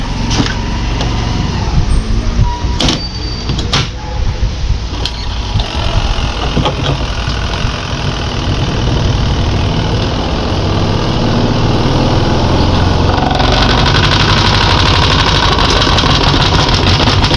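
A noisy washing machine spin dryer, its basket scraping as it turns, runs with a loud continuous grinding rumble and rattling close by, growing harsher toward the end.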